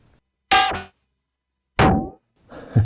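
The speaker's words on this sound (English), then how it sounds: "Let's have a listen to the snare." Two sharp electronic snare hits from a ModBap Trinity drum module ring out separately with short tonal decays, followed by a brief softer hit at the end.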